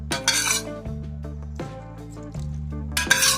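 A spoon clinks and scrapes against a metal vessel while turkey berries are stirred with buttermilk and salt, with a few bright metallic knocks and a steady low hum between them.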